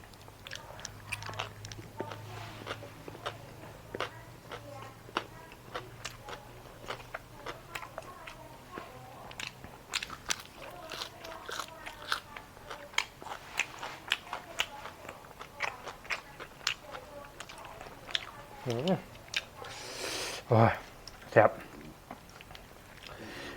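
Close crunching and chewing of grilled snakehead fish eaten with papaya salad, fermented fish dip and rice at a home meal, steady small bites and mouth sounds with someone speaking now and then over them.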